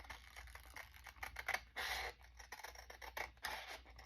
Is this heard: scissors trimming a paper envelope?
yes